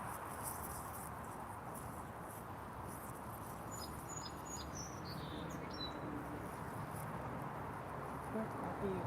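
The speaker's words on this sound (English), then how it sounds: "Where are you, bird? They're singing above my head, but I don't see them." Birds chirp and sing in short high calls overhead in woodland near a lake, faint over a steady background wash that may be light rain.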